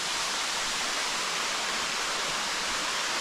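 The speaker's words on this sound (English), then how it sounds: "right here is Shangri-La Falls" Shangri-La Falls pours down in an even, broadband hiss of falling water, steady and fairly close, with no voices.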